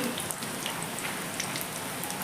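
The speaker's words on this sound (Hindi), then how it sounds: "बरसात का मौसम, ये देखिए" Rain falls steadily during the rainy season, an even, dense hiss of drops on surfaces that continues unbroken with no voices.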